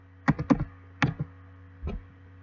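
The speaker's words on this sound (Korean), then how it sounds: "물론 키보드의 방향키도 활용하실 수 있습니다" Several keys are struck on a computer keyboard during image-editing work, including arrow keys, in a short cluster of clicks followed by a pause and a few more taps, close and quiet, with no voices.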